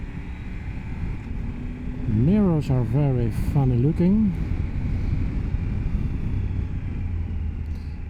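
Steady, loud wind roar buffets a close microphone throughout while someone speaks briefly over it, riding a Triumph Tiger 1200 GT Explorer motorcycle.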